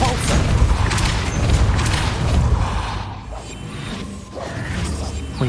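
A Depulso spell fires in Witch Simulator, a dense, sustained whooshing rush with booming, clattering mechanical noise that surges, dips briefly, then swells again.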